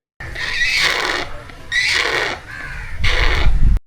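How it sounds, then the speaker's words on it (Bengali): A zoo bird gives three loud, harsh, raspy calls in close succession, each about a second long with short gaps between them, sounding near and strained. "কিছুদূর এগিয়ে এক পাখির দেখা পেলাম, যা অদ্ভুত রকমের শব্দ করতেছিল"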